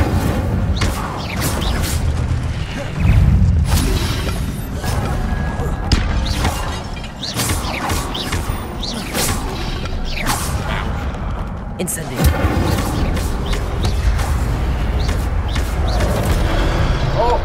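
Incendio fire spell cast in Hogwarts Legacy, a loud burst with crashing, whooshing impacts over continuous game music and effects, with a player talking throughout.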